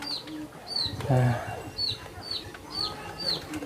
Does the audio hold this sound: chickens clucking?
yes